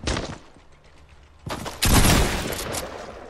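A pump shotgun in the Fortnite video game fires a sharp blast at the start, followed moments later by louder, closer booming shots with a lingering rumble, no talk over them.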